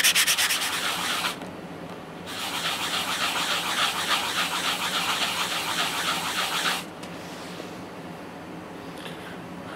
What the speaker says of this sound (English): you just put your ring down and you just sand that down real